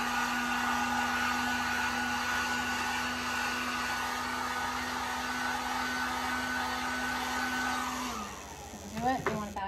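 A heat gun blows hot air over the epoxy coating on a glittered tumbler, a loud steady whir that stops near the end, followed by a voice speaking briefly.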